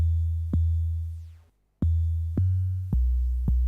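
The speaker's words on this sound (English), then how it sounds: "So Amigo sampler gives the 808 this weird overtone" An 808 bass run through an Amigo sampler that adds a strange overtone, a handful of deep booming hits with long decaying tails and a brief silent gap between them.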